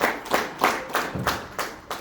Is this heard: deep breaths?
no